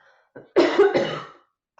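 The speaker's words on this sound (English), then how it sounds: "I'm going to cough" A person coughs twice in quick succession, close and loud, after a brief throat sound, then silence.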